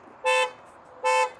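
Two identical loud horn blasts from a VinFast VF9, set off by the key fob as an alarm, each about a fifth of a second long and spaced roughly 0.8 seconds apart, with quiet in between.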